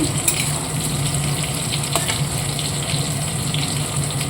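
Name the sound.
prawns frying in a pan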